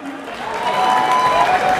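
A crowd at a French awards-night event applauds and cheers for Flora, a DJ, in a loud, sustained wash of clapping with a few voices rising within it.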